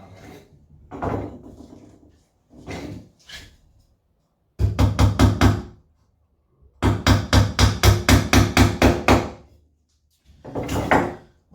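Hammer taps driving wooden bars of a National Hoffman and Manley frame into place, in quick rhythmic bursts of about five and then ten sharp knocks with pauses between, close and clear.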